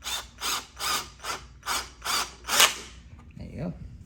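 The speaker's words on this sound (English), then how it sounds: "I'm just gonna tighten these a little bit." Screws are tightened during assembly of an Auromie corner desk, with seven rhythmic ratcheting bursts about half a second apart, close and clear, followed by a faint brief sound.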